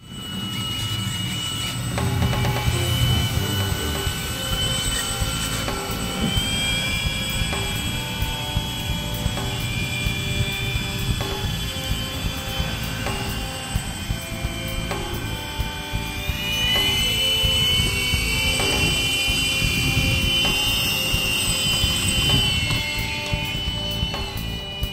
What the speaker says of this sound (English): We're gonna take this beautiful A-10 up for a ride.